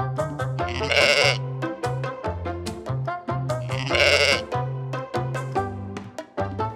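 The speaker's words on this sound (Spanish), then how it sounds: "la oveja" Sheep bleats sound twice, each a loud wavering cry, over a steady background of repetitive music.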